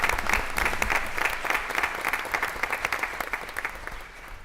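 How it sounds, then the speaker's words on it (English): A room at a school board meeting breaks into a round of applause, a dense burst of many hands clapping that stays strong and then thins into more scattered claps before fading. "So if I get a round of applause."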